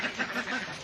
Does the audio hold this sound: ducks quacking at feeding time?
yes